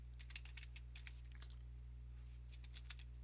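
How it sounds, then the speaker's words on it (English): Quiet, irregular clicks of fingers typing on a computer keyboard, a few quick bursts of keystrokes over a steady low electrical hum. "So I'll type that in there and click Continue."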